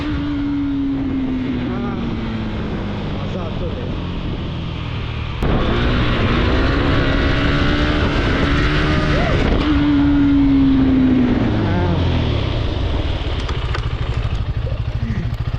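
A KTM Duke 390 motorcycle engine revs loudly through a wheelie, its pitch sliding down, then climbing and holding high before dropping away, with wind and road noise throughout and voices faintly in the background.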